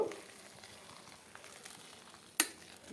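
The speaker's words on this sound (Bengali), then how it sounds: "জলটা ফুটছে পাঁচ মিনিট এরমই ছেড়ে দেব" Shredded cabbage sits in a pot of boiling water, giving a faint, soft, continuous bubbling, with one sharp knock near the end and no voices.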